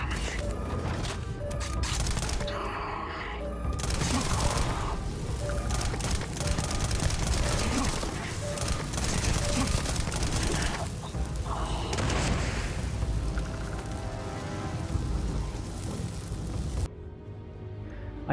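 Sniper combat at a point of interest in Starfield, heard as loud, dense booming gunfire and crashing impacts that keep going almost without pause for a long stretch, with possible faint voices under the din.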